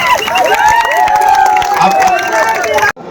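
Political rally crowd of Jan Suraaj supporters with loud cheering and shouting, a wavering voice rising above a dense crowd roar that cuts off abruptly at the end.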